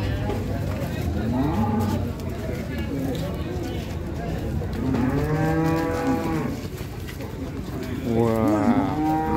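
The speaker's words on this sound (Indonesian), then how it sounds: "Sapi di Pasar Nyetes pagi ini." Several cows moo loudly and drawn-out amid a busy outdoor babble of people talking and market noise at a cattle market in Ponorogo, Indonesia.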